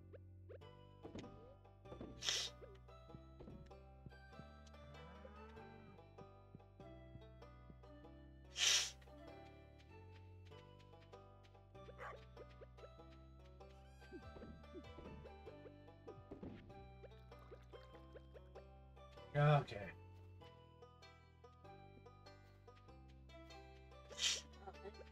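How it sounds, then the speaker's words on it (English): Several short sneezes burst out over a steady Stardew Valley farm game music track, spaced across the clip at irregular intervals, each loud and abrupt against the quieter background. "I'm gonna sneeze again here,"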